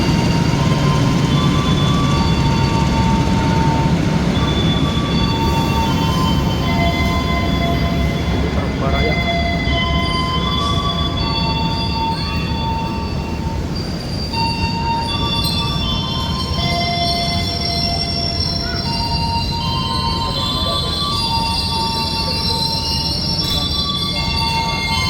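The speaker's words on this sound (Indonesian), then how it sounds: "Nah, ini di jalur 1 nih ada KA lokal Bandung Raya. Tiba di stasiun Bandung." A Bandung Raya local train pulls into platform 1 at Bandung station, a loud, continuous rumble of rolling stock with faint metallic wheel squeals over the steady din of the busy station throughout.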